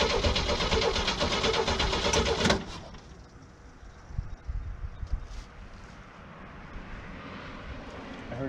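An old Chevy that has sat for eight years cranks on its starter, a loud churning burst for about two and a half seconds, then it drops to quieter rumbling and scattered knocks.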